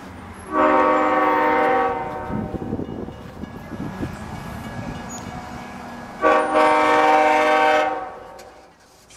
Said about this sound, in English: I can pick up the headlights of the approaching westbound cab car.